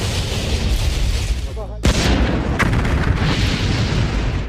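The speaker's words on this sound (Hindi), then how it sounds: "कोलंबिया स्पेस शटल में एक धमाका हो गया है।" A loud, dense explosion sound effect for the Columbia space shuttle: a sustained roaring blast cut by a sharp crack, then a second rolling burst of rumble and debris-like noise.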